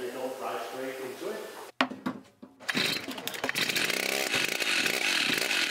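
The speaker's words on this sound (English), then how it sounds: "We've been using a chainsaw, which is relatively cheap instrument for making big lumber" A chainsaw cuts a slab from a Douglas fir log, running loud and steady after a brief pause and restart, with its pitch wavering under load while someone talks over it.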